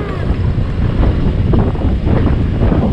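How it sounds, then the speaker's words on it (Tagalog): Loud, gusty wind roars and buffets the microphone continuously at a market, a dense rushing noise carrying dust, with no voices. "Hangin. Halikabok."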